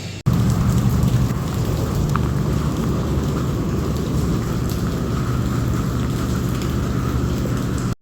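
Heavy rain pours down steadily with low thunder rumbling beneath it, a dense, unbroken roar lasting throughout with no voices.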